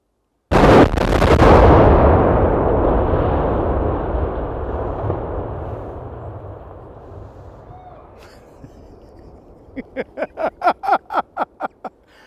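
Explosive demolition of the Smithland bridge: a sudden massive blast followed by a long rumbling roar that slowly decays, then a rapid series of sharp pops or bangs near the end.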